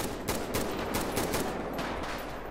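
Automatic weapons fire in a zombie mode of the video game GTA, as a string of sharp, rapid bursts over a constant game background.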